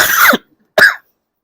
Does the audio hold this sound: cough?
yes